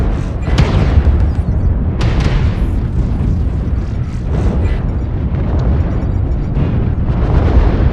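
Mech weapons blasting in MechWarrior Online, a loud string of heavy booming shots and explosions, several sharp bursts spaced a second or two apart over a rumbling, continuous battle din.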